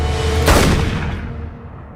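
A single sharp gunshot rings out in a scene from the film Skyfall, sudden and loud, decaying over a second beneath a steady background rumble.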